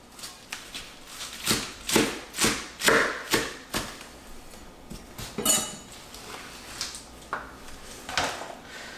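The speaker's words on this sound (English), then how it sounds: "for the lettuce, I'll just chop it up medium" A knife chops lettuce to medium size on a board, a run of crisp, uneven thuds and taps, some close and sharp, with short pauses between strokes.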